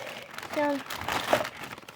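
Packaging is crinkled and rustled while items are unpacked, producing soft, close crackling bursts, with a brief voiced sound partway through.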